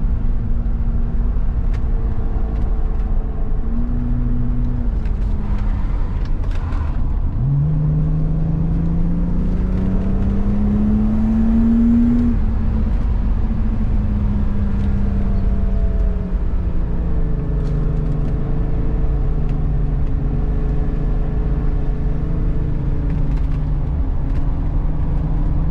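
Inside a BMW 850i E31 on a drive through woods, the engine drones steadily, its pitch rising and falling through gear changes, with constant road and tyre roar and no talk.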